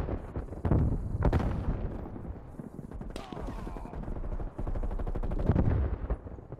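Gunfire in the video game Call of Duty Black Ops Cold War, with repeated close, punchy shots and bursts of rapid fire mixed with excited talking.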